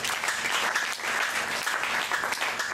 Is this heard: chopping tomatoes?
no